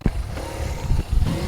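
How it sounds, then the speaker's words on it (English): A motorcycle engine surges in quick repeated whooms as the clutch engages, a loud, close, rough pulsing drone of rising and falling revs. "Hear the clutch kind of going whoom, whoom, whoom."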